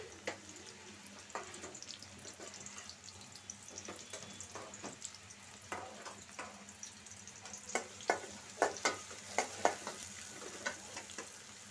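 Chopped onion and green chillies fry in a wok with a soft continuous sizzle, punctuated by spatula scrapes and taps that grow louder and more rhythmic toward the end.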